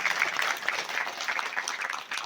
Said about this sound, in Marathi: एकदा जोरदार टाळ्या त्यांच्यासाठी आपण वाजवायच्या आहेत